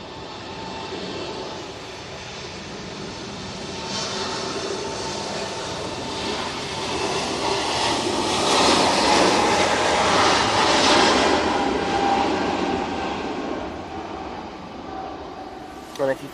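A Lufthansa jet departs Manchester Airport for Munich on a windy day, its engine roar swelling to a loud peak midway and then easing, with a person talking over it.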